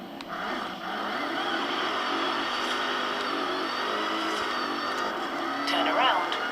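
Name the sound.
car driving in a video game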